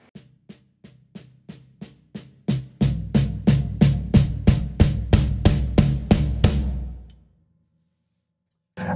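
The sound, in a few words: drum crescendo on snare and floor tom with kick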